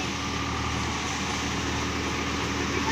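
A steady, continuous engine drone with a low rumble and broadband mechanical noise, unchanging throughout, from a Swaraj 744 XT tractor working a rotavator while puddling a field.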